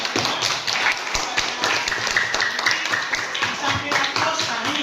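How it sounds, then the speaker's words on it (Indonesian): A group gives a round of applause at an Indonesian discussion session, many hands clapping in a fast, uneven patter that holds steady throughout, with some voices murmuring underneath. "Kita berikan aplaus."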